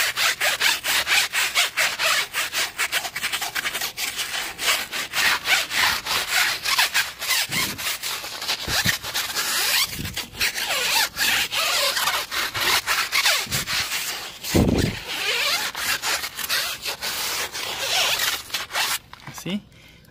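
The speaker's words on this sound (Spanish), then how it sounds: "Que quede bien tallado por todos lados." A car tire being scrubbed by hand with a brush and detergent, a steady, close rasp of repeated bristle strokes running the whole time with brief harder scrapes, and a voice talking now and then.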